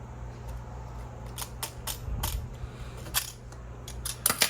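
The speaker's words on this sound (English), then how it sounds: "I'm going to use my shop scissors, and I'm going to try and cut this off" Sharp snips and clicks of shop scissors cutting through a stiff 2-meter Yagi antenna element, irregularly spaced, close up over a low steady hum.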